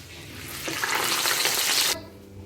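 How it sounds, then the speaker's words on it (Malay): Shrimp fritters (kuih cucuk udang) of batter topped with prawns fry in hot oil, a loud crackling sizzle that swells, holds for over a second, then cuts off abruptly, leaving a faint low rumble. "goreng dalam minyak yang panas ya."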